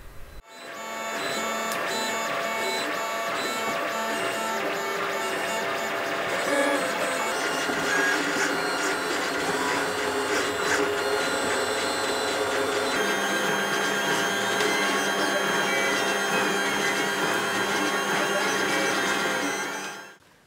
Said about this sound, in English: this is going to be printed lying down with some support material in that gap to support the other side of the hinge